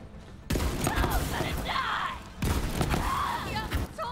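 A gun in Borderlands 3 fires in two long, rapid bursts of loud, close shots separated by a short pause, with someone talking between the volleys.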